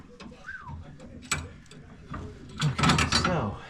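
A ratchet turns a nut on a Vanagon's front end with quick clicking and metallic rattles, building into a busier burst of ratcheting near the end, close and moderately loud.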